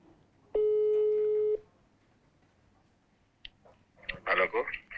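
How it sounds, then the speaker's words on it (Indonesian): A phone call tone sounds once as a steady, loud beep lasting about a second, followed by quiet line hiss, a click and then people talking. "Ini gue telepon nih, temen gue ya."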